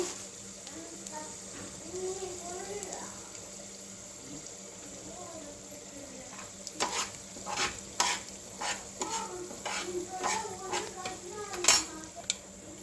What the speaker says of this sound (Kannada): ಸಾಸಿವೆ ಮತ್ತು ಜೀರಿಗೆ ಚಟಪಟ ಅಂದ ನಂತರ